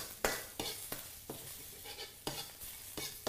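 Ginger and garlic sizzle in hot oil over high heat for a vegan Kung Pao sauce, stirred in quick repeated strokes that bring sharp scraping bursts over a steady frying hiss, close and alone.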